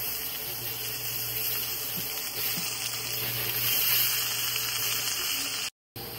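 Vegetables and curry leaves frying in hot oil with a little ghee for chicken and prawn fried rice, a continuous close sizzling hiss that holds steady and briefly cuts out near the end, with no talking.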